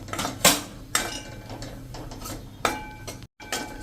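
A utensil scrapes and clatters in a pan in irregular bursts as flour is stirred and roasted in oil over a slow flame for stuffing masala. The scrapes are close, with short pauses between them.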